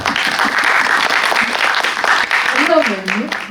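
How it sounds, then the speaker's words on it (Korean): An audience claps together at a film premiere cinema talk, a dense, steady round of applause heard up close, with a voice speaking over the tail end. "박수 부탁드립니다."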